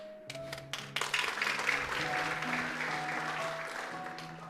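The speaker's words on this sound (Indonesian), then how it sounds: "Saya senang dengan tepuk tangan yang tadi dimulai sebelah kanan saya" A church congregation breaks into applause during a sermon, the clapping building after a few sharp early claps and then holding steady, with some tonal sounds in the background.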